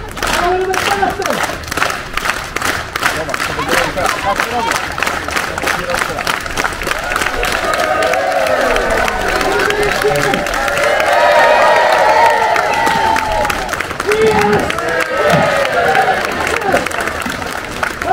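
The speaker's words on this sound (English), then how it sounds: "can you please join in with a nice, slow hand clap all together?" Street performance crowd on a walking tour in York, England clapping together in a steady rhythmic hand clap that quickens, with cheering, whoops and a performer's voice heard over it.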